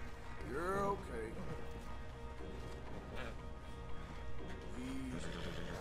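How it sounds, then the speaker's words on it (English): A horse in a video game whinnies near the start, a wavering high neigh, with a fainter second whinny near the end and low hoof and game ambience throughout. "Come on, Mr. Horse. Easy. You're okay."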